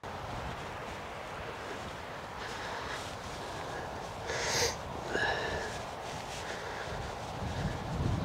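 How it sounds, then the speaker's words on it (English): Steady 25 mph wind on a golf course buffets the microphone with a low, rumbling roar, swelling briefly in gusts, with no talking. "it is really, really windy. And the microphone might be picking this up"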